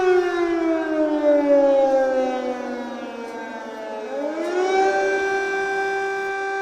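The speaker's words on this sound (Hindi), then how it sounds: "तो ये युद्ध का सायरन है जो आप सुन रहे हैं।" A war siren sounds during a civil defense mock drill demonstration, one long loud wailing tone that slowly falls in pitch, then rises again near the end, heard alone with no talking.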